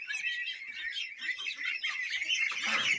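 Ducks squawk and chatter on a farm in a continuous, fairly faint flock of overlapping calls, with no voices present.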